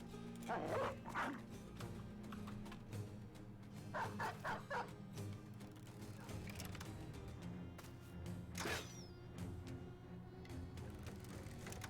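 Dogs barking and yipping in the video game Battle Brothers, several sharp bursts scattered over a quiet musical background, with a few whimpers between barks.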